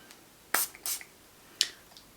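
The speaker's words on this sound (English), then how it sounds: "So you do just give it a bit of a shake and then a spritz." A makeup setting spray with a fine mister is shaken, then spritzed: a quick rattle followed by short hissing bursts of mist, close and quiet, with a final spray puff near the end.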